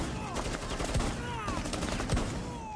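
Rapid gunfire rattles in the tactical shooter video game Rainbow Six Siege, bursts of sharp shots cracking in quick succession through the clip alongside a player speaking.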